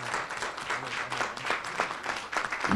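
An audience at a journalism panel applauds with dense, continuous clapping at moderate loudness throughout, welcoming four speakers.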